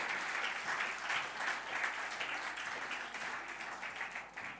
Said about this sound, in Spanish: dale un buen aplauso